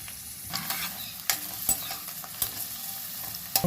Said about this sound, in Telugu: ఆయిల్ మరిగింది. ఉల్లిపాయ ముక్కలు వేస్తున్నాను.